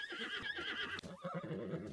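A horse in the video game Zelda Breath of the Wild gives a loud, shrill whinny, then snorts and shifts with soft hoof sounds, heard close and alone.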